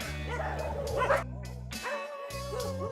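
Several dogs at a sanctuary for destitute animals bark, yip and whimper in an overlapping chorus, close and fairly loud, with a short pause before the barking resumes.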